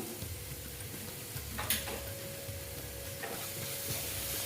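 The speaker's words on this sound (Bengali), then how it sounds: "দেখো একটু নেড়ে চেড়ে নিচ্ছি কাশ্মীরি লাল লঙ্কার গুঁড়ো দিয়ে দিলাম" Spices and Kashmiri red chilli powder frying in a pan for a Bengali boal fish curry, stirred with a spoon, a faint steady sizzle with soft scraping strokes and a couple of light clinks.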